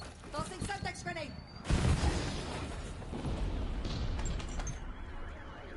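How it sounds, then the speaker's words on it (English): A Semtex grenade goes off in a video game firefight with a single heavy blast near the middle, followed by a sustained rumble and crackle. Speech-like voices and gunfire textures sit in the mix before it. "Tossing Semtex grenade!"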